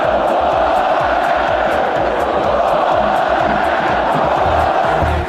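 A huge football crowd roars in unison at a Corinthians match, a dense, loud, continuous chant filling the stadium with rhythmic pulses running throughout.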